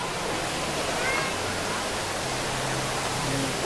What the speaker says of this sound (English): you can walk under legit a waterfall right now.